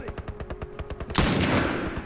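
Gunfire in The Last of Us Remastered: a rapid, even series of close shots followed by a sudden loud burst of fire that trails off into a noisy wash.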